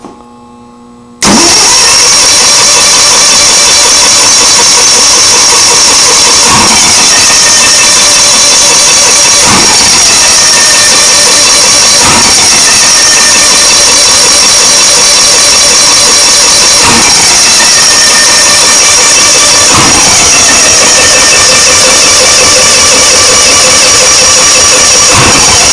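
An Onan generator engine cranks and catches after a short quiet moment, then runs loud and steady with a droning hum and faint periodic pulses throughout, close by with no talking.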